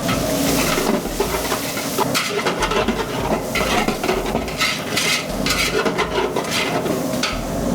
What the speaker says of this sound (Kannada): ಈರುಳ್ಳಿ ಫ್ರೈ ಆಗಿದೆ ಈರುಳ್ಳಿ ಫ್ರೈ ಆಯಿತು